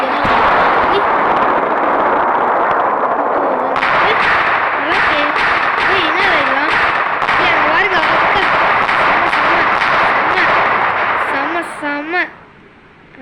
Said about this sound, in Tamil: ஃபஸ்ட்டு சொன்னால் நம்ம இந்த வெடி வெடிக்கட்டும்